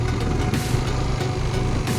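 A motorcycle engine running steadily while riding along a road toward a shrine on Lombok, a loud, close, continuous buzzing drone mixed with wind rush, with no speech.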